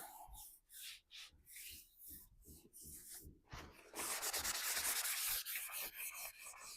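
A print is hand-rubbed onto a gel plate over a stencil: a run of short, close rubbing strokes gives way to a louder, steady scrubbing sound.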